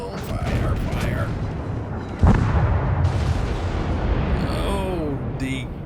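Rear guns of the British Tier-8 premium battleship HMS Vanguard in World of Warships fire as one sudden heavy boom that rolls into a long rumble, over constant engine and battle noise, with someone talking before and after.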